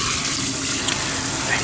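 Tap water runs steadily during hair rinsing in a salon-style ASMR roleplay, a continuous close hiss that stays even throughout with no voice over it.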